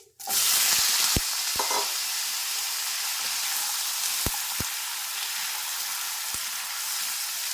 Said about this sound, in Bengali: ভালোভাবে নাড়াচাড়া করে আমি লাউগুলো একটু তেলটার সাথে ভেজে নিচ্ছি